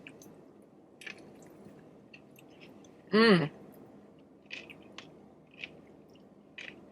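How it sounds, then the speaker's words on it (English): Eating a Wagyu beef wrap produces soft, close, wet chewing crunches spaced every second or so, with one brief hum of approval from the eater in the middle. "Can you hear me crunching?"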